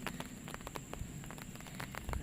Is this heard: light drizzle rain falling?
yes